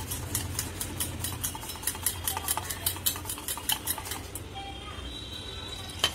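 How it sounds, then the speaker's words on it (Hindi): Besan is whisked into yogurt for kadhi, fast rhythmic scraping and tapping of a whisk or spoon against a bowl, close and clear, slowing and stopping near the end. "दही में हम बेसन को डालेंगे और इसको अच्छे से मिक्स करेंगे।"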